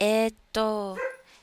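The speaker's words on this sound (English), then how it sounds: "I don't know if you could hear that, but my dog is barking." A dog barks twice close by, two sharp, tonal barks separated by a brief gap and followed by a softer whimpering yip, with a short spoken exclamation.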